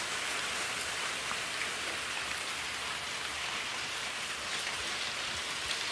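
Heavy rain in the video game Free Fire pours in a dense, unbroken hiss, steady and loud throughout, with no talking.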